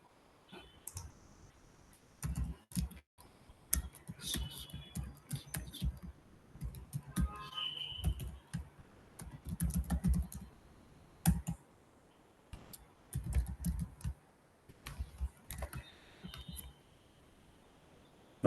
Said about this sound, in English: I have to type manually.